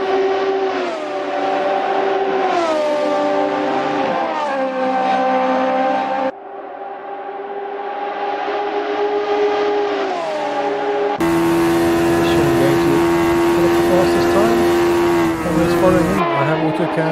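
Radical SR3 race cars lapping Road Atlanta in a racing game, shrill engines screaming at high revs with repeated upshifts and downshifts, views cutting between cars, loud and sustained.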